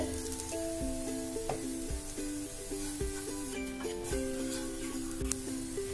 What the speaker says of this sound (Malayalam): ഇനി നമുക്ക് ഇതെല്ലാം കൂടെ ഒന്ന് വഴറ്റിയിട്ട് ഈ പൊടികളുടെയൊക്കെ ഒന്ന് പച്ചമണം പോണ വരെ ഒന്ന് വഴറ്റിയെടുക്കാം